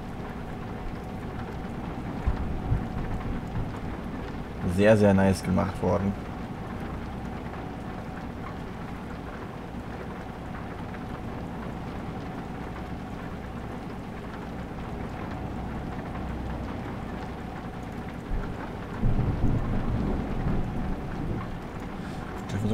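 A thunderstorm with steady rain drumming in a driving game set on steep Romanian mountain roads near Bran, with a loud thunder crack around five seconds and a later rumble, brief talk over the rain.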